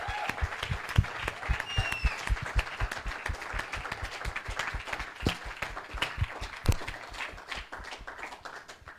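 A church congregation claps and acclaims the Lord, with many hands striking in a steady, fairly rhythmic beat that sounds like sustained clapping, moderately loud and close, carrying on for several seconds alongside a faint voice.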